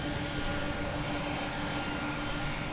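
Aircraft on final approach to Lisbon Airport, a steady, loud engine roar with a continuous whine that holds evenly throughout, with no voices.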